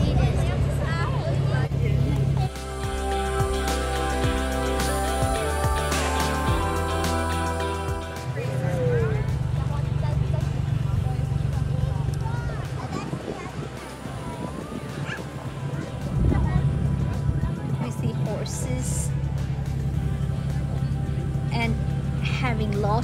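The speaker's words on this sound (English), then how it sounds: "Lots of fun going around the farm with the tractor." A farm tractor pulls a hayride around a pumpkin patch at harvest time, its engine droning low and steady throughout while people chatter nearby and a dog barks now and then.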